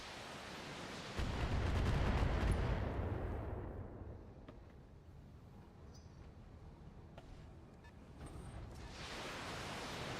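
Heavy weapons fire from battling mechs in the BattleTech video game, with a dense, roaring burst of blasts early on that settles into a steady rumbling barrage, continuing loud and unbroken without any voices.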